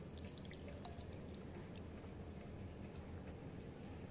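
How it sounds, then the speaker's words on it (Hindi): Milk poured into a bowl of melted butter and sugar for eggless waffle batter, a steady liquid splash running unbroken and fairly close, with no talk over it. "मिल्क डालेंगे"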